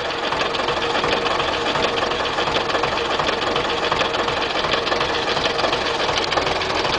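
An MTZ tractor engine idles loudly and steadily, with a constant rattling, knocking drone throughout and no voices.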